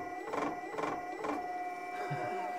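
A homemade electric outboard motor whirs with a steady high mechanical whine and rhythmic pulses as a magnet is brought closer, picking up speed, close by with faint background talk.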